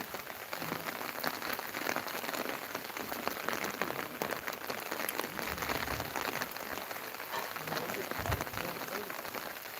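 Rain falls at Hill View Park in Cheruthoni, Idukki, a steady, dense patter of drops spread evenly over the whole stretch with no pauses.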